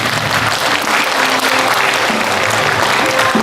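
An audience applauding elderly graduates aged eighty and over at a university senior academy graduation ceremony, dense sustained clapping from a large crowd, loud and continuous without a break.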